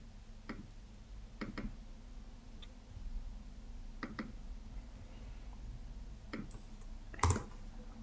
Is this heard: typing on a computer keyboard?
yes